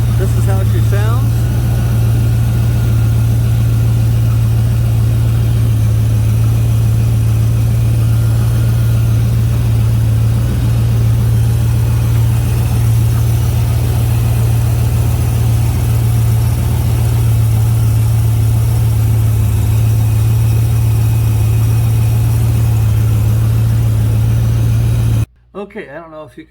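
A 1971 Plymouth 'Cuda engine fitted with an Edelbrock carburetor runs steadily at idle, loud and close with a deep constant drone, cutting off abruptly at the end.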